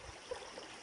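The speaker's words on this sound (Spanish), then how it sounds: "¿Escuchan eso? Es el agua." Water flows faintly over a stream bed, a soft, steady trickling murmur heard at a distance without speech.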